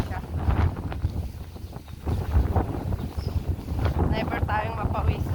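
Strong wind gusts buffet the microphone on an outdoor walk, a loud rushing roar that swells and dips, with a person talking over it.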